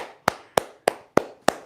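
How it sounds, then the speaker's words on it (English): A dance class gives themselves a round of applause: five sharp, evenly spaced claps, close and crisp, in a quick steady rhythm. "Give yourself a round of applause."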